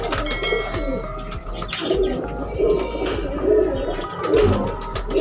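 Pigeons on a rooftop in Sialkot, Pakistan coo in soft, repeated rolling calls over a steady background hum, with occasional chirps and clicks from nearby birds.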